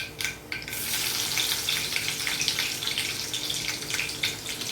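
Crushed garlic cloves hit hot oil in a pan and sizzle loudly, a dense close crackle that swells after a few initial pops and stays steady.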